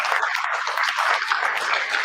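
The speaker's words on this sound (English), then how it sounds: "Give the panelists one more round of applause." Applause from an audience closing out a panel discussion on sport held at a university venue, with steady dense clapping that runs evenly through the moment at moderate loudness.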